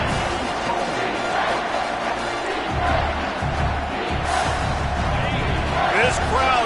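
A football stadium crowd roars and cheers loudly near the goal line, a dense continuous wall of voices that swells partway through, with a play-by-play commentator talking over it.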